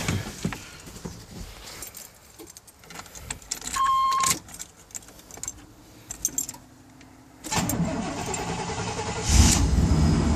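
A Chevy K1500 pickup's 350 engine is cranked with a brief rattle of keys, then catches and settles into a steady idle, close and fairly loud, with quieter handling noises beforehand.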